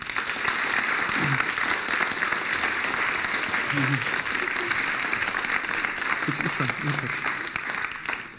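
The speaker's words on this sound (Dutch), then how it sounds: "Geef haar eventjes een applaus, alsjeblieft" An audience applauds warmly as a woman is called up onto the stage at a talk on smart computers, a continuous broadband wash of clapping with a few brief voices faintly above it.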